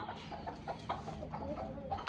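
Chickens cluck nearby beside a parked bike, with short bursts of fowl calls scattered over a steady broadband outdoor background for about two seconds.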